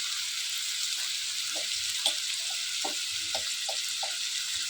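Cumin seeds hiss in hot oil with green chillies and onions for a fish roe curry, a bright continuous sizzle with soft stirring knocks and scrapes spaced every half second or so.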